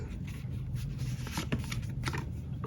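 Tarot cards are shuffled and drawn by hand in a steady run of soft riffling and flicking close up, continuing for a few seconds without speech over it.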